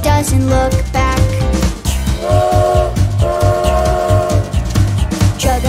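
A train sound effect with a whistle-like tone rises over the bouncy, loud backing of a children's nursery-rhyme song. The toots appear twice, each lasting about a second, over a steady rhythmic beat.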